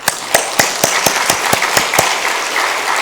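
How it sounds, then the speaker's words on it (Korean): A church congregation applauds the choir in loud, evenly spaced rhythmic claps, about four per second, that blend into steadier clapping near the end. "박수로 감사하십시다."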